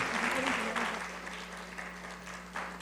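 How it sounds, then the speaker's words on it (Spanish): Audience at a legal seminar on civil and family procedure gives a warm round of applause, steady and moderately loud clapping lasting the whole stretch, with a low electrical hum beneath it. "Un aplauso fuerte para él."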